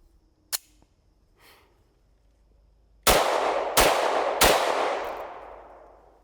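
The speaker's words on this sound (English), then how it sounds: "3 rounds of 9x18 with the Makarov" Three loud, sharp gunshots from a Makarov pistol firing 9x18 rounds, spaced well under a second apart with ringing decay, preceded by a couple of faint clicks and a soft rustle.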